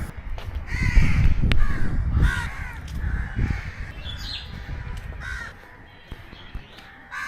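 Several crows caw loudly in quick succession on the Rajshahi College grounds in daytime, overlapping harsh calls nearby, over low outdoor rumble; the cawing thins out toward the end.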